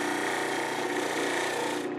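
A steady, loud whirring hiss of a buffing machine polishing a metal sewing machine clamp held on the needle bar, continuous and close for two seconds before cutting off at the end.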